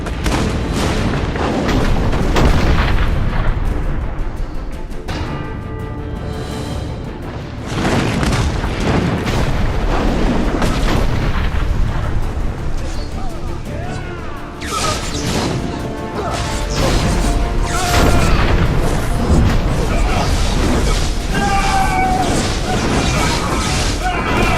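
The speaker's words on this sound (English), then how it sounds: "Thanks to you, we still have our cannons from the swamp." Cannon fire in the video game Dungeon Siege III: repeated heavy booms and crashing impacts over a dense, continuous battle soundscape, with some speech.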